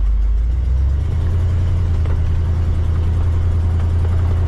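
A 1960 Chevrolet Impala's 283 V8 runs steadily at idle, a loud, close, deep rumble that holds even throughout with a slight rise in throttle early on, with no voices.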